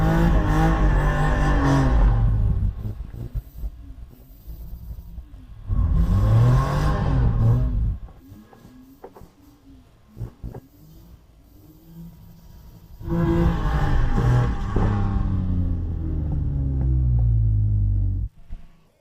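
BMW drift car engine revving hard on a drift track at full throttle, with three long loud bursts of high revs separated by quieter stretches of lower engine noise and brief pops.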